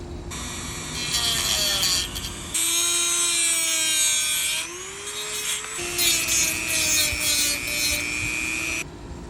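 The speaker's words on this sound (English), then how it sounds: "We'll make our cut right there. I'm going to use my Dremel." A Dremel rotary tool cuts through a bolt with a loud, high, whining drone that dips and rises in pitch as it bites and eases off, running in several long passes with brief lulls between.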